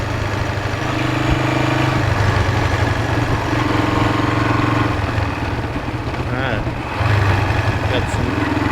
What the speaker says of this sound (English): Yeah, it returns to idle.